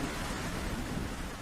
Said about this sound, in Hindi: चील भाई, बाहर बहुत तेज बारिश हो रही है।